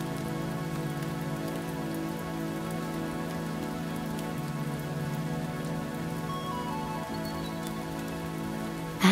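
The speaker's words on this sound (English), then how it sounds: "As you listen to the rain, know you're safe and sound" Steady rainfall patters onto the ground and into puddles, a continuous, even wash of drops that holds at a constant level throughout, with no voices.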